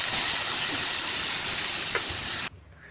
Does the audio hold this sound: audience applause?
no